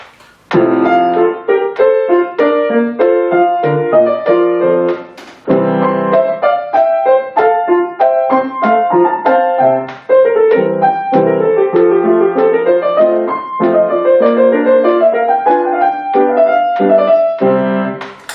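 A Bach allegro in 2/4, played on a keyboard at full tempo, ninety-six beats per minute, with brisk, even running notes that stay loud and continuous, broken only by a brief pause partway through.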